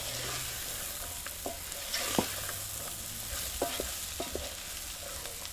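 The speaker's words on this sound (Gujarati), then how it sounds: "મસાલો બધો પાકી જાય કકડી જાય એટલે ઉતારી લેશે" Spices crackle and sizzle in a pan with boiled mung beans, moth beans, chickpeas and peas, a steady close frying hiss broken by occasional clacks of a spoon stirring.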